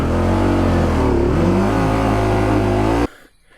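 A CFMOTO 800MT-X adventure motorcycle stuck on an off-road obstacle at low tyre pressure revs hard and close as its rear tyre spins, the pitch wavering and climbing for about three seconds before cutting off abruptly.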